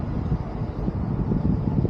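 Steady low rumbling wind buffets the microphone, a dull continuous roar with gentle gusty fluctuations and no talking.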